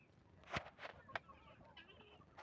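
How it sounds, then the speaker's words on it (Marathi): Free-range village chickens on a poultry farm give a few short, faint clucks and squawks at a moderate distance, with quiet background noise between calls. "हे बघा मित्रांनो, कोंबड्या कशा आपल्या फिरत आहेत."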